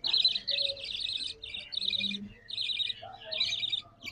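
Pet birds chirping indoors, rapid bursts of high twittering repeated in short phrases with brief pauses between, close and clear, with a faint low voice murmuring underneath.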